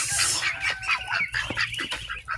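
Ducks on a duck farm quack and honk in a noisy cluster at feeding time, close and overlapping in quick bursts with no talking.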